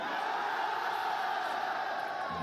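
A large esports event crowd fills the space with a steady, dense roar of cheering that holds at an even level throughout, with no single voice standing out.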